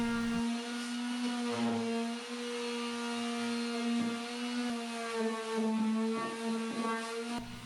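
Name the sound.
sanding wooden nightstand surface down to bare wood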